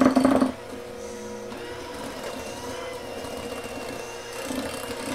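An electric mixer creaming white sugar with half a cup of white shortening for sugar cookies, heard as a steady whirring motor hum after a brief clatter at the start, running on without talk.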